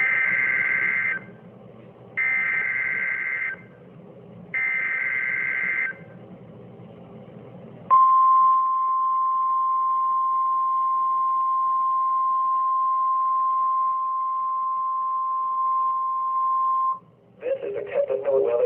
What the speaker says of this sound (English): The attention signals you just heard will automatically activate special receivers to warn of the impending hazard.